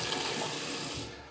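A tap running inside a villa, a broadband hiss of flowing water that holds steady and then eases off toward the end, close and alone.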